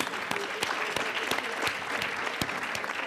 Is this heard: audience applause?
yes